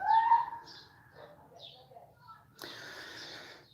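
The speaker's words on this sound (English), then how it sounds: "I'm tuned into the birds chirping in the background" A bird's clear whistled chirp rings out at first, followed by fainter distant calls over a soft background hum.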